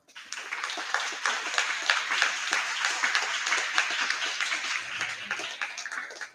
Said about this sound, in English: I solicit the gathering to show their admiration for all her achievements with a resonating cheer through claps